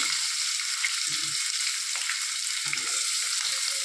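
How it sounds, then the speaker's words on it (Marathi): Onion sizzles loudly in hot oil as tempering for chicken curry, a steady bright hiss with a few soft stirring knocks underneath. "मी आता कांदा टाकते"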